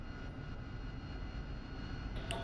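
An AV-8B Harrier jet engine spools up on a carrier deck in the flight simulator DCS, a steady broadband roar with a faint high whine, close and even throughout.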